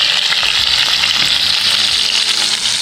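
Onions frying over an open fire sizzle loudly and steadily, with a homemade spatula scraping and stirring through them close up and no voices.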